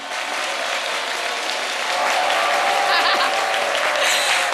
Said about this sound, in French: tout ça, tous ces applaudissements, c'est pour l'historienne Marie-Paul Adjé